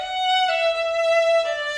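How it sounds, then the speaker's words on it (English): A single sustained violin note slides in pitch, with a student-style portamento shift from one position to another, played close and clear with no accompaniment. "we're going to do the portamento shift"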